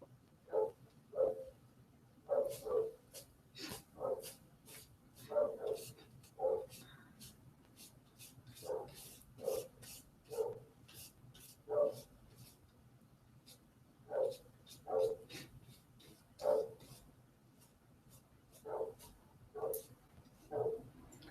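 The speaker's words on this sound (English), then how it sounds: "That dog is still barking." A dog barks repeatedly in a steady rhythm, single and paired barks spaced a second or two apart, muffled and somewhat distant.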